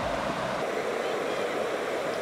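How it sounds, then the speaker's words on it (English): River rapids on the Arkansas River, heard from a campsite above, make a steady, dense rush of churning water that holds at an even level throughout, with no talk. "We've got some rapids down here and some people enjoying the river Arkansas"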